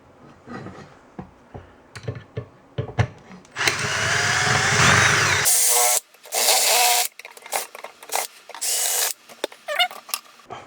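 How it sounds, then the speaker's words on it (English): A power drill bores through metal on a Saiga AK rifle during a conversion, running in a long sustained whine and then in repeated short bursts with gaps, close and loud. "I think it's going to need a little bit more drilling"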